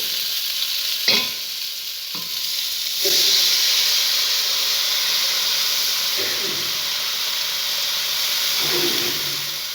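Water hits a hot pan of fish curry with a sharp burst of hissing steam, followed by sustained sizzling and a few clinks of stirring, close and loud.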